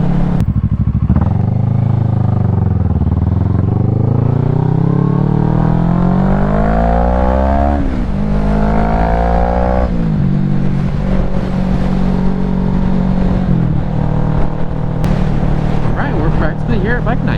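A Kawasaki Ninja 650 motorcycle revs and accelerates through several gears, the engine pitch rising and dropping with each shift, loud and close with steady wind rush throughout.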